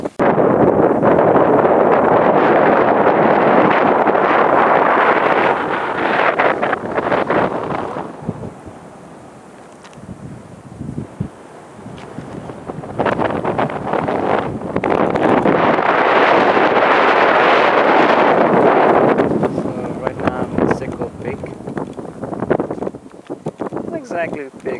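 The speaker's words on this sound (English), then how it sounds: "It's freaking windy!" Strong, gusting wind on a hiking trail in Hong Kong roars loudly across the microphone, with a brief lull midway before the buffeting surges back just as hard.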